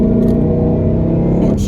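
Supercharged Ford Mustang GT with a Whipple supercharger accelerating hard, engine and exhaust roaring loud and close with a steady rising drone and supercharger whine, ending in a brief shift-like break.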